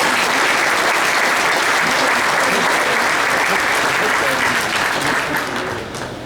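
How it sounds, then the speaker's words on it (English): Loud, sustained audience applause at a Red Lake tribal State of the Band gathering, thick continuous clapping that carries on for several seconds before starting to taper off. "Let's give him a round of applause."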